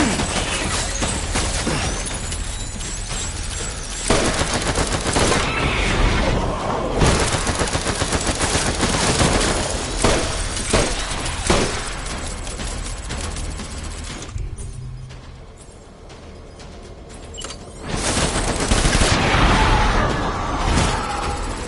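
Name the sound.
gunfire in video game Death Stranding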